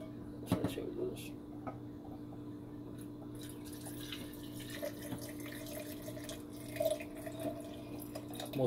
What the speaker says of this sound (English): Next, we're gonna add some boiling water.